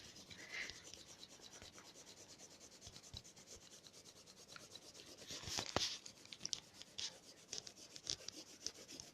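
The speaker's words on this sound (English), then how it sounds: "you can rub out all the nasty little lines" An eraser rubs out pencil lines on paper in quiet, repeated scratchy strokes, growing a bit louder and busier toward the end.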